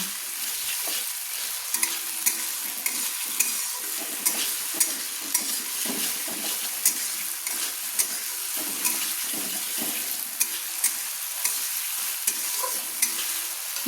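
Green peas are stirred with spices in a pan over a medium flame, giving a continuous sizzle and regular scraping clicks of a spatula against the metal, with no talking.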